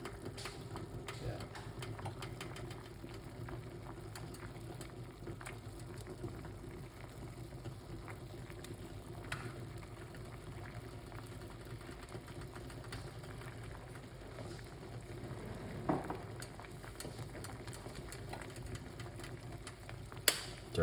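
A pot of ginger and lemon simmers on the stove with a steady, low bubbling rumble and a faint hiss, continuous and quiet throughout, with a few small clinks near the end.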